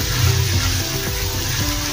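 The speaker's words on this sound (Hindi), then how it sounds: "इसको भी थोड़ा देर अभी भून लेंगे तेल में।" Coriander and cumin powder frying in hot oil for a brinjal curry, a close, dense sizzle with a slight crackle over a brief stretch, no voices.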